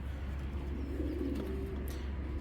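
A pigeon, a boot-feathered fancy breed, coos close by in a low, soft, rolling call against a steady background hum.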